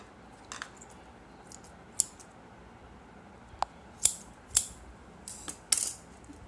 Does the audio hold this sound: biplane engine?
no